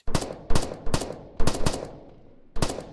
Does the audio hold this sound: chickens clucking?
no